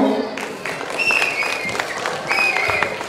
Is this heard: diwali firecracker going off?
no